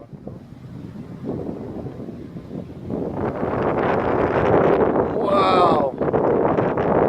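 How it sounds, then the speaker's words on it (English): Heavy wind buffets the microphone in a steady roar that builds louder midway, with a brief exclamation from a voice near the end, on Gore Mountain. "It's nasty windy."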